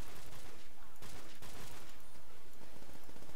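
Rapid gunfire from an M14 rifle in Call of Duty: World at War, dense overlapping shots and battle noise filling the clip loudly and continuously with no pause.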